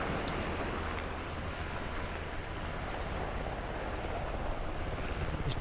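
Helicopter in the Arma 3 video game during a milsim operation: a continuous loud engine and rotor roar with broadband wash that stays constant throughout, with no one speaking.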